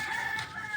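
Chickens cluck and call in a short, close burst, part of a large flock of around two thousand birds.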